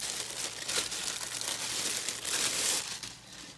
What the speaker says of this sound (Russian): Достаем из пакетика.